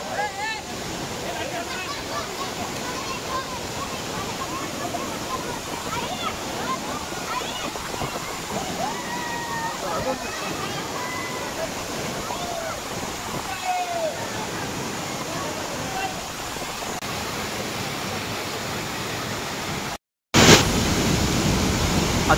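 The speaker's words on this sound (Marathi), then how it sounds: "आता बघू शकता तुम्ही धबधबा." Savatkada waterfall roaring in a steady, loud, broadband wash of falling water that continues almost unbroken, with a brief dropout near the end before the rush returns.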